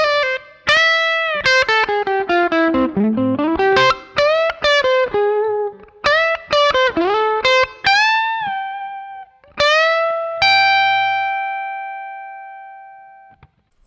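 Electric guitar, processed through effects, plays an improvised lick built on chord shapes: quick runs of bright picked notes and bends, ending on a ringing chord that decays slowly, with no talking.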